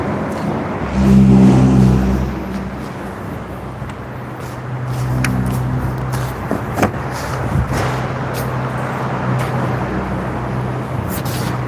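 The 1.5-litre petrol engine of a 2018 Honda City SV automatic idles steadily close by, with a short rev near the start and then a smooth, even hum.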